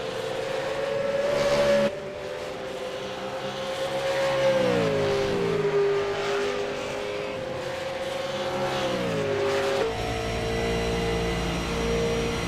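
V8 Supercar engines roar through a racing video game at Road Atlanta, a steady loud engine drone with rising and falling pitch as cars shift gears and rev, continuous throughout with other cars audible nearby.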